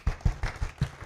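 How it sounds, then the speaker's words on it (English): Round of applause from a church congregation, a handful of distinct, fairly close hand claps in an uneven rhythm, with no voices over them. "Can we get a round of applause?"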